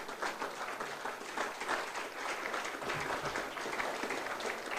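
An audience at a Colts induction ceremony claps in a steady, fairly faint round of applause that goes on throughout.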